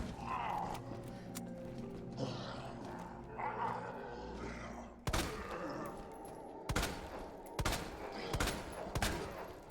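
Video game gunfire cracks out in four or five sharp, loud bursts, irregularly spaced, after a stretch of rumbling background game noise and low voices.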